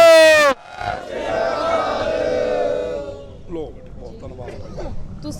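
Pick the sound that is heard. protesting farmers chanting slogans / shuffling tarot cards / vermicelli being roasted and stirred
protesting farmers chanting slogans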